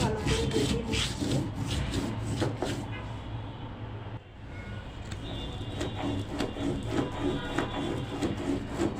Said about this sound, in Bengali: সব রকমের জন্য আমি মরিচগুলো ভালো করে বেটে নিচ্ছি।